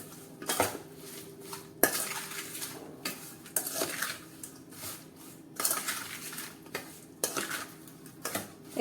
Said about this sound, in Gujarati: એકદમ સારી રીતે આપણે ચલાવી ચલાવીને મિક્સ કરી લઈએ એટલે બધો જે મસાલો છે ને એ મરચાં અને આમળાની અંદર બેસી જાય